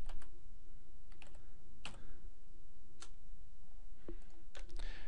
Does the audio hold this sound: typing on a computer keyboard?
yes